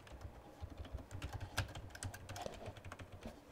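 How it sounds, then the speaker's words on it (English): Someone types quickly on a computer keyboard, with a steady patter of soft, close key clicks and no speech. "I'm about to type it in"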